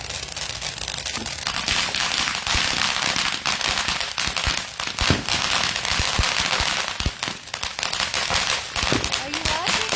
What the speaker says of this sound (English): this fireworks they doing.